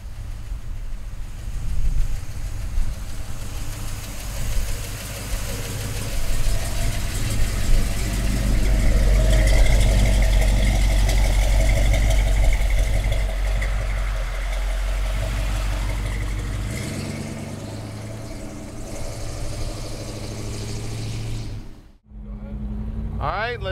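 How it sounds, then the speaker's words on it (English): A black 1970 Chevrolet Chevelle with a 454 big block V8 runs with a deep, rumbling low-end throb that builds and holds, then briefly cuts out before resuming near the end. "Let's take a 70 Chevelle for a ride. Black car, big block."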